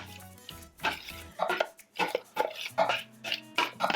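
Gluten-free carrot cake batter with sweet potato and raisins is stirred in a bowl: irregular scraping and soft clinks of a utensil against the sides, in uneven bursts, fairly close and moderate in volume with no talking.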